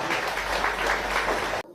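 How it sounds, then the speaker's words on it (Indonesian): An audience applauds during a lecture, a dense, steady wash of many hands clapping together at close range, which cuts off abruptly just before the end. "Tepuk tangan untuk Indonesia, Pak"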